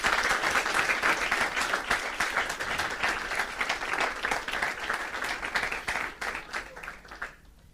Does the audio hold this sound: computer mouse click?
no